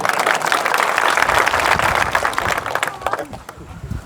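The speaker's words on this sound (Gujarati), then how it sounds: "બહુ સરસ, તાળી પાડો ભાઈ." An audience of farmers at Sapkada near Dhrangadhra, Surendranagar, claps together in a loud burst that thins into scattered claps toward the end, with voices mixed in.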